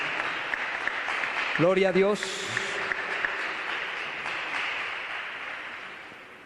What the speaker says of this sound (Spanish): dele un fuerte aplauso al Rey de Reyes y Señor de Señores